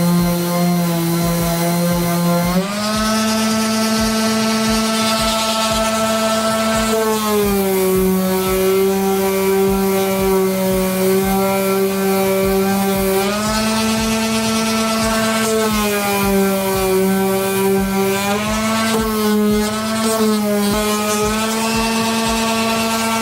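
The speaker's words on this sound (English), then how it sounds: "So I'm gonna keep sanding." A power sander works over car bodywork, giving a loud, continuous motor whine whose pitch steps up and down as the pressure changes, with no talking.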